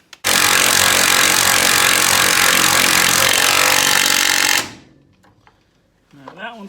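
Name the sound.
power tool tightening bolts on Chevy C20 axle saddle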